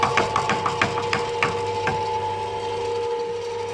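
Worn, poorly kept Goliath machine running with a steady mechanical hum and a loose, irregular rattle of quick knocks that fades after a couple of seconds, heard alone without talk.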